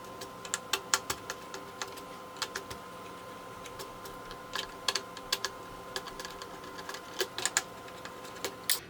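Screws are removed from the all-in-one CPU cooler of an Alienware Aurora R10 Ryzen Edition desktop. Small irregular clicks and ticks from a screwdriver turning come in scattered clusters, close but faint over a steady low hum, with no talking.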